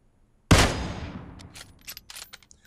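In PUBG Mobile, a sharp, loud gunshot bursts out and rings off, followed by a scatter of quieter, rapid distant shots and clicks.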